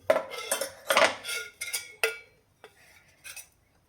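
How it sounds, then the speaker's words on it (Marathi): A steel pot and utensils clatter and clink in a kitchen while dal tempering is being prepared, with a string of sharp metallic knocks and scrapes that thin out to a few faint taps. "आता ह्या स्टीलच्या भांड्यामध्ये वरणाला फोडणी घालते."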